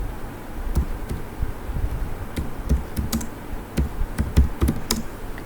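Typing on a computer keyboard, a run of irregular soft key clicks and taps at close range with no talking, some keystrokes landing in quick clusters.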